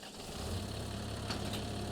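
A tractor engine idling in Farming Simulator, a steady low rumbling drone with a faint knocking texture, close and continuous with no voices.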